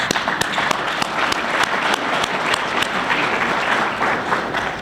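A crowd at a church-group communion brunch applauding steadily, many hands clapping in a dense, sustained patter with a few sharper claps standing out.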